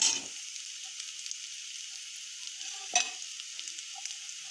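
Bitter gourd, potato and slit green chillies frying lightly in a pan for a potato and bitter gourd curry, giving a faint steady sizzle with a louder clatter at the start and another near the middle.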